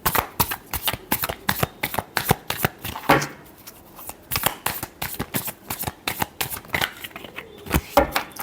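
Tarot cards being shuffled in rapid, crisp riffling bursts, repeated many times in a steady flurry, close and fairly loud with no talking.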